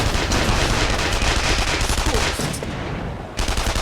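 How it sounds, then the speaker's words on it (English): Sustained rapid gunfire from a World War II–era shooter game fills the clip loudly and densely, a near continuous barrage with a brief dip in intensity before it surges again. "The shooting started."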